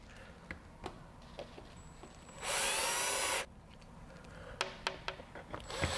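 A power drill drives screws into a window stop during sash replacement, one loud whirring burst of about a second amid quieter handling taps and knocks.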